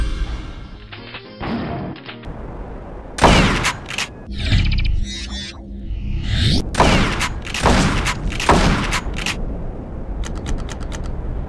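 Shotgun blasts in a first-person shooter game, several heavy booming shots with crashing impacts spread through the stretch, loud and close with dense game noise between them.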